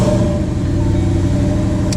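A Ford Mustang fitted with a new muffler runs steadily after starting, a close, even mid-pitched engine hum with a faint whine and no voices.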